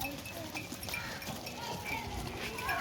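A flock of sheep passes by on a Pakistani farm, with a busy shuffle of hooves and faint bleats running steadily throughout, with a voice heard over it.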